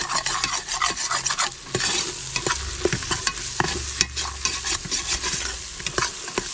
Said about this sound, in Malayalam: നമുക്ക് ബിരിയാണി മസാല ചേർത്ത് കൊടുക്കാം. ഏകദേശം ഒരു 2 ടീസ്പൂൺ മസാല ചേർത്തിട്ട് നന്നായിട്ട് ഇളക്കി കൊടുക്കാം.